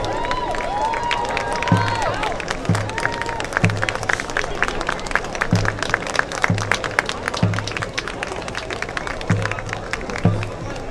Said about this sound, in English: A standing round of applause is in order.